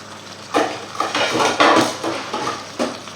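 A lid goes onto a metal pot of mussels with several close clanks and scraping knocks of metal on metal, loud and alone, with no talk.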